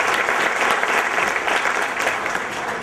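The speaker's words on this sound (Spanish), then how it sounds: "Un aplauso inmenso para nuestro queridísimo." A crowd applauds at a school graduation ceremony, with dense, sustained clapping from many people that fills the room evenly and loudly.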